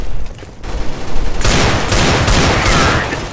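Decoy grenades in Counter-Strike: GO fake gunfire as a loud, rapid fusillade of machine-gun-like shots that comes in after a quieter start and keeps rattling in dense bursts to the end.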